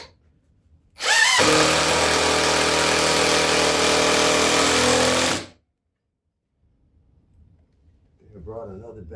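A cordless drill drives screws into a mudroom subfloor in one loud, steady burst of about four seconds. A quiet pause follows, and a voice speaks faintly near the end.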